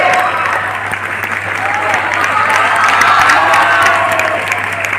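A live audience at a motivational event gives a sustained round of applause for a performer called to the stage, steady dense clapping with faint crowd noise throughout.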